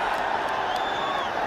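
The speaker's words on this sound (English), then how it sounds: "And look at the crowd chant there." Cricket crowd at a Nepal versus Netherlands one-day international chanting in unison, a steady dense roar of many voices that holds level throughout without a break.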